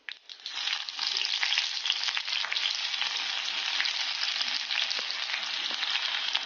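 Chopped small shallots fry in hot oil for Kerala tapioca upma, a bright, continuous close sizzle that swells up within the first second and then holds steady alone.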